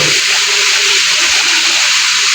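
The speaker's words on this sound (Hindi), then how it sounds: "ये हम पानी डाल रहे हैं ये ताकि देखें, हमारे टमाटर बच जाएं सड़ने से।" Water pours steadily over tomatoes beside a large deg pot in a madrasa kitchen, a continuous rushing, hissing splash that runs unbroken and fairly loud throughout.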